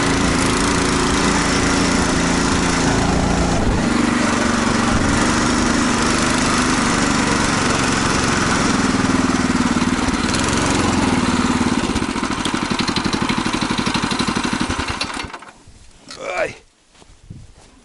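Small engine of a motorized tricycle on a sandy dirt track drones loudly and steadily, sounding strained, then cuts out abruptly near the end, leaving quiet rustling.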